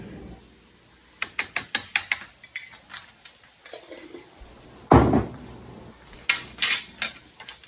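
A spoon clinks and scrapes against a bowl as minced garlic, seasonings and crab meat are stirred together for crab dip, giving a run of quick, close taps followed by a louder scrape and a few more clinks.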